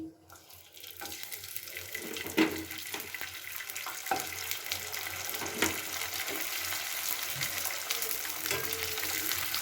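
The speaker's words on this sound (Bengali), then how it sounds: "তেলটা খুব ভালো করে গরম হয়ে গেছে এবার আমি এক এক করে কয়েকটা পাঁপড় ছেড়ে দিচ্ছি" Papads fry in hot white oil with a dense, continuous bubbling sizzle and scattered crackles and pops.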